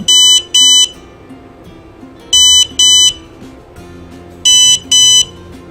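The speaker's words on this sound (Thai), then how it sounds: "ในแซมเปิลโค้ดนี้เมื่ออันตราโซนิกตรวจจับวัตถุในระยะ10เซนติเมตรคุณจะสามารถได้ยิงสัญญาณแจ้งเตือน" An ultrasonic smart cane built on a Maker Uno board sounds alert beeps when it detects a nearby object: loud, shrill electronic double beeps repeating three times at steady intervals, close and alone.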